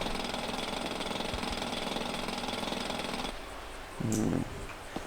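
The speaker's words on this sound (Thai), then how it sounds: "ตอนนี้ก็เริ่มขุด" Steady mechanical drilling of rock in GTA V roleplay, a dense rattling buzz that runs continuously for about three seconds, then drops to quieter background with a brief low thud near the end.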